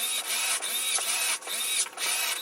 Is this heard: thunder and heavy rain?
no